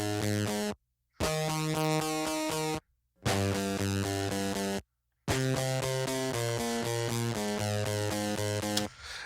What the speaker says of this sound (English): we've got these kind of like fuzzy preamp guitars